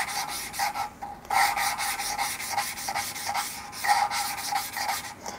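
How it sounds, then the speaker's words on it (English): A BMW N54 engine valve being lapped with lapping compound, a gritty rubbing rasp repeated in quick back-and-forth strokes, close and fairly loud with short pauses and no talking. "I'm doing sort of backwards and forwards five or six goes, and then I'll do a double spin just to try and make sure the valve's rotating"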